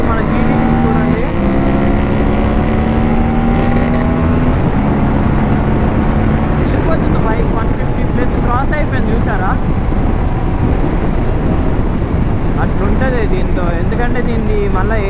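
Royal Enfield GT 650 motorcycle riding at speed, a loud engine drone with rising and falling revs under heavy wind rush, with a voice talking over it.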